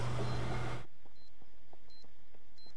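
Bomb beeping in the game Counter-Strike: a faint electronic tone repeats at a steady interval, about four short beeps after a loud burst of noise cuts off, with nothing else around them.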